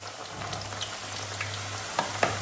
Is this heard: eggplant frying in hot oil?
yes